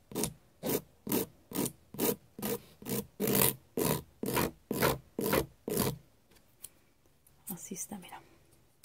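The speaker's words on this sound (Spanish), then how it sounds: "de hacerlo con una lija o lima que no sea tan gruesa" A gel nail is filed with a fine-grit nail file, producing about fourteen close, evenly paced rasping strokes, followed by a few seconds of quieter handling.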